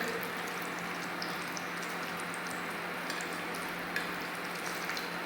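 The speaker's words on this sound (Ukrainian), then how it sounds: "Наш шпик пасирується до рум'яна, довго не пасируємо." Pork fat (shpik) sautéing in a frying pan while cooking stewed cabbage, giving a steady, even sizzle and crackle that runs throughout with a few brief louder pops, fairly close and with no talking.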